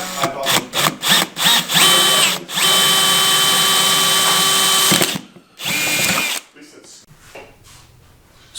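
A power drill with a 1/4 inch bit whirs in several short, loud bursts, then runs steadily for a few seconds and stops, close by, during a bumper install on a 2024 Ski-Doo Summit Gen 5 Adventure, with quiet talk afterward.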